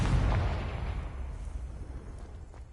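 A Confringo fire spell explodes in Hogwarts Legacy, a loud, close boom at the start that rolls off into a fading, crackling rumble over the next couple of seconds.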